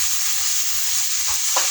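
Boiled chickpeas with salt, red chilli and garam masala fry in a pan with tomatoes, giving a continuous close sizzle, with a couple of scraping stirs near the end.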